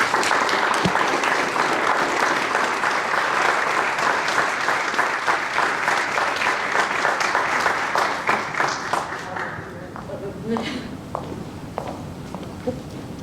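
A large audience at an anniversary program claps loudly and steadily for several seconds, then the applause thins to scattered claps with brief voices underneath.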